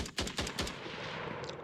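An AI drone in an Unreal Engine 5 game firing at the player, a quick burst of three or four sharp, faint gunshots followed by a lingering hiss.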